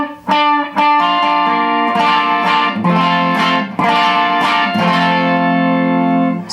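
Electric guitar notes and chords with a shimmering octave-up effect layered over them, bright and sustained, played alone with a few strummed attacks.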